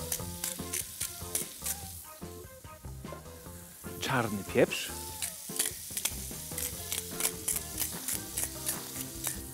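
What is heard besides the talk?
pork tenderloin frying in a pan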